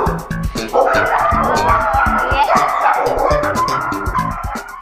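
Many dogs in a rescue kennel bark and yip loudly and continuously, overlapping in a dense echoing chorus close at hand.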